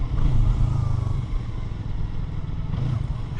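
A motorcycle engine rumbles steadily nearby, a low idling drone with slight revs throughout.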